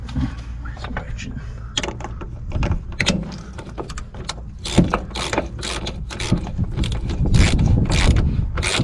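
Ratchet wrench working on a car's rear brake wheel cylinder at home, with repeated sharp clicking bursts and metallic knocks in irregular runs, close by, while someone talks over it.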